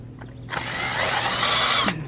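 A power drill backs a screw out of wood while a plant sun shade is being built, a loud, close whirring burst lasting about a second and a half after a brief moment of quiet.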